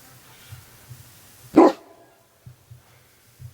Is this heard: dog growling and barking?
yes